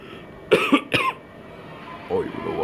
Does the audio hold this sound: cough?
yes